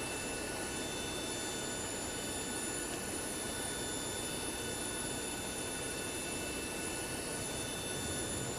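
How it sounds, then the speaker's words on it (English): A Zibo 737 pushback in the flight simulator X-Plane 11, a steady broadband rumble with faint high whining tones that holds at an even level with no clear change, heard alone. "Let me get this aircraft moving backwards"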